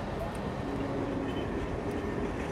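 Steady low rumble of a train departing Samarkand station in Uzbekistan, a continuous dense roar with no distinct events, close and fairly loud throughout.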